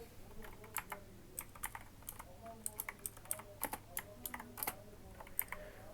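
Quick, uneven typing on a Windows computer keyboard: a close, light patter of keystrokes that runs throughout at a low level, with no talking.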